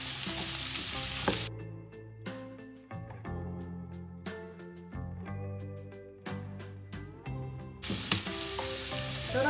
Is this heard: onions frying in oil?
yes